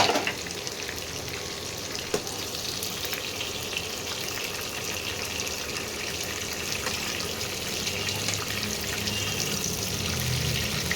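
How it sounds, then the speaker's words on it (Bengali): Slices of pointed gourd sizzle and fry in hot oil in a pan, a steady dense crackling hiss that runs throughout with occasional stirring, close and continuous without any talk. "আগে পটলটা ভেজে নিই"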